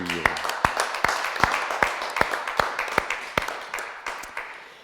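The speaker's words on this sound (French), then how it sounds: "on va vous applaudir" A church congregation at a Sunday Mass on Father's Day claps for the fathers, sharp distinct claps at a fairly steady beat of roughly three per second, moderately close and fading slightly toward the end, with a faint voice at the start.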